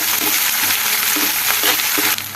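Ginger garlic paste fries hard in hot oil for a mutton fry, making a loud, dense, continuous sizzle with soft scraping stir strokes close by.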